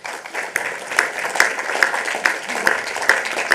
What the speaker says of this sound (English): At this stage, I think we can applaud.